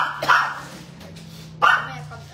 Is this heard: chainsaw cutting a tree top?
no